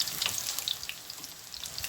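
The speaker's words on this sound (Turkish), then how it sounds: "Patlıcanlarımın tavamın içerisine aldım arkadaşlar. Bir yüzü kızardı, diğer yüzünü çeviriyorum." Eggplant slices sizzle in a frying pan as they are turned over, a close, steady crackle of hot oil with small popping bursts.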